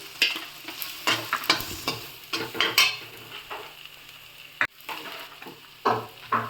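Crushed onion and tomato masala frying in oil for a spicy stuffed brinjal gravy curry, stirred with repeated scraping strokes over a steady sizzle and occasional utensil knocks, close and clear with no voices.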